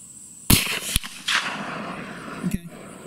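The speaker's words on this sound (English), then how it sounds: "is going to shoot the bottom left target" A CVA Accura V2 muzzleloader fires a 250 grain load on a 200 yard range, one sharp, loud blast followed by a quick echo, a lingering rumble and a fainter crack moments later outdoors.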